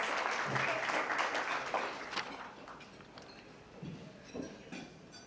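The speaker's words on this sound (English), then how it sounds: "All right, another round of applause." Applause from diners at an annual transportation awards banquet, a fairly quiet patter of clapping that thins out, with a few clinks and scattered claps near the end.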